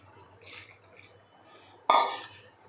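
Hot water is poured briefly into a vessel of tamarind and jaggery for chutney, a sudden splashing gush after a few quiet clinks and soft kitchen noises.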